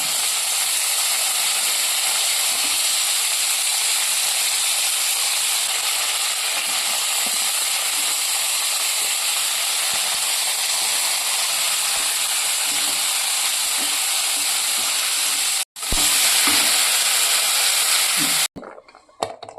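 Poppy seeds, cinnamon, cloves, cardamom and dried red chilies dry-roasting in a pan for mutton head sambar, a continuous loud hiss with faint stirring scrapes that cuts out abruptly near the end.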